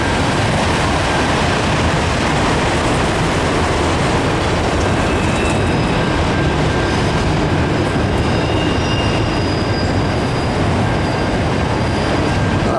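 CSX manifest freight train Q580 with an ES44AC lead rolls past close by, a loud, continuous roar of wheels and cars with faint metallic squealing, no talk.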